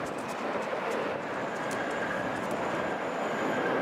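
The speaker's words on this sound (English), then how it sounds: "Delta Airlines Flight 1771 from Toronto on an Airbus" A Delta Airlines Airbus A320 arriving at Hartsfield-Jackson airport in Atlanta sends out a steady broadband jet roar at moderate distance, holding constant and fairly soft for the whole stretch, with no voices.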